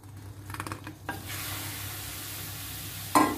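Shrimp cooking in a pan for Thai-style larb, with a soft sizzle and a few clinks of a utensil against the pan, ending in a brief louder scrape.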